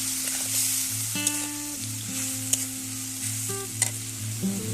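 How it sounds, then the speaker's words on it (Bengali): Spice paste sizzles and fries in a pan as it is stirred, a steady hiss with faint scraping and a few sharp clinks, with tonal background sounds underneath and no talking. "এবার মশলাটাকে ভালোভাবে কষিয়ে নিব"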